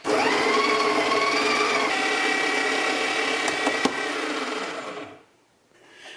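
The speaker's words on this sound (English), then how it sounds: "I wanna say that by the way it's grinding, I think the problem went away." A Breville Smart Grinder grinds coffee beans with a steady, loud whining buzz that holds for about five seconds, then cuts off abruptly and leaves a faint tail.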